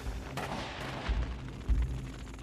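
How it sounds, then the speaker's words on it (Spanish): Musket fire cracks out in a fast ragged volley, several heavy booming shots overlapping with rumbling low echoes and no voices. "Enseguida comenzamos a oír disparos de mosquete y vimos llamas."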